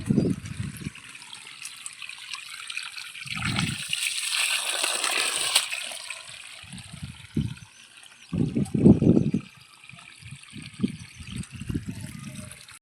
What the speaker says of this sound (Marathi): चला झाडाला पाणी देतोय आणि पाणी चालू आहे झाडाला